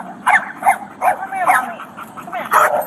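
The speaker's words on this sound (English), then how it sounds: "While the owner attempted to leash the dog, it suddenly charged at an officer" An escaped pit bull in a neighborhood barks in short yips and whimpers repeatedly at close range, loud and agitated, while someone speaks over it during a police encounter.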